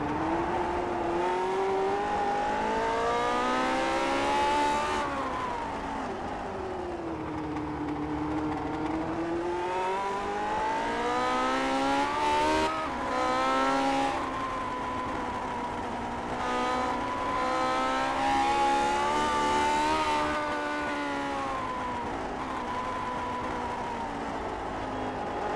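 On-board engine of a vintage Grand Prix Legends race car in iRacing at the Nordschleife, a loud continuous wail rising and falling through gear changes and revs, close and steady for the whole stretch with no talk.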